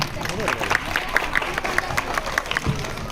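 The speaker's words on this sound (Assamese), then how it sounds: "একদম জোৰছে হাত চাপৰি" An audience claps loudly at a Bihu dance workshop, with rhythmic clapping and crowd noise mixed with voices and chatter.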